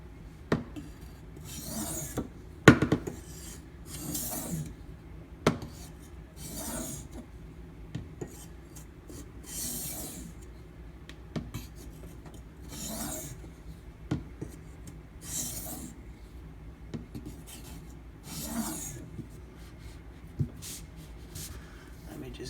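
A knife blade held in a sharpening clamp is drawn back and forth to break off a burr, giving a steady series of close, raspy strokes with brief pauses between passes.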